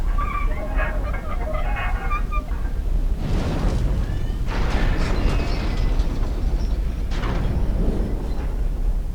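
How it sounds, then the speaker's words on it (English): Fire roaring in the Dark Souls 2 Iron Keep area near the Smelter Demon, heard as a loud rumbling blaze with repeated heavy whooshing, eruption-like bursts and a few brief game tones above it. "we are going to shut off this fire right here"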